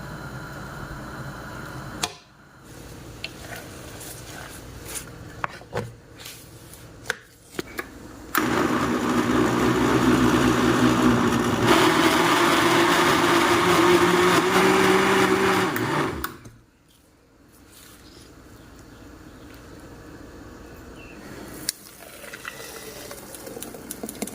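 A blender whirs loudly for several seconds blending garlic and jute leaves, its motor pitch shifting as it chops, then cuts off, with clicks and clatter before and after.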